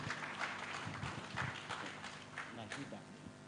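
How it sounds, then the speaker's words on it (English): Scattered applause from a heritage conference audience, a quiet, fairly distant patter of hands with voices mixed in underneath. "Let's give a round of applause to Najib."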